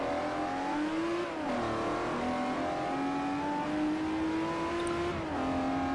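A car accelerating in Forza Motorsport 4, its engine whining loud and close as it climbs through the revs, with brief dips at two gear shifts before pulling up again, no talking.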